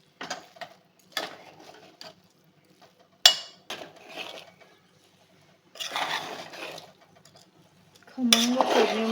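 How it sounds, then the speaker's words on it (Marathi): Rice and chickpeas roast in a spiced tempering in a pan over a medium flame, stirred in short bursts of close scraping and metallic clatter separated by quiet pauses. "तांदूळ देखील आपण फोडणीमध्ये छान भाजून घ्यायचा आहे."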